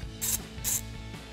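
Ratchet wrench breaking loose bolts on the bypass valve of a 2015-2017 Ford Mustang EcoBoost, two quick rasping clicks close by over a low background hum.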